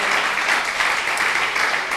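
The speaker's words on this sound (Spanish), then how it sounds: "le demos la bienvenida a los hermanos con un aplauso" A congregation at a church service applauds in welcome, a steady, even wash of clapping that holds at full strength throughout.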